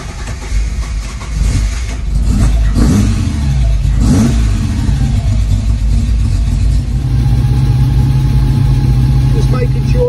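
A classic car, unstarted since mid-November, cranks and catches on a cold winter warm-up, then settles into a loud, close rumble with repeated throttle blips and revs that rise and fall over a steady idle.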